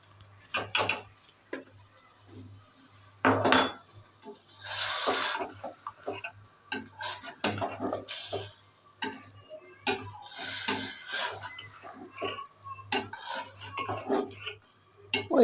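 Spoon scraping and clinking against a pot while chicken stew with yogurt is stirred, irregular metallic knocks and scrapes at close range over a low steady hum, no talking.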